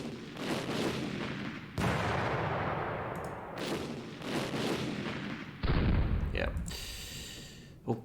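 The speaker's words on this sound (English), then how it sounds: "Let's hit these with some light artillery fire." Light artillery fire in the Panzer Campaigns wargame booms out as several separate blasts, each a sharp hit with a decaying rumble. The last one is heavier, and a clanking tail follows it.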